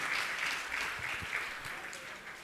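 An audience at a Jain religious gathering applauds, a brief burst of clapping heard alone, at moderate volume, from a few metres away.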